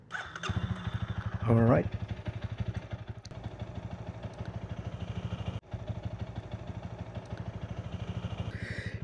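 Honda Rebel 250 motorcycle engine running steadily while riding, a loud continuous mid-low drone with a brief throttle surge near the start; someone briefly speaks over it.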